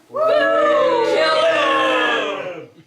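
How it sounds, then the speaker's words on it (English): A crowd boos at a bare-knuckle fistfight in a makeshift ring: a loud, sustained chorus of jeering voices swells quickly and holds for over two seconds before fading. "The crowd boos and demands the first draw of blood."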